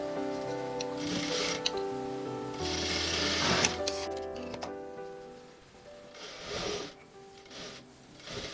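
A sewing machine stitches a baby girl's dress in close, rapid runs of needle clatter, stopping and restarting in several bursts with brief pauses between.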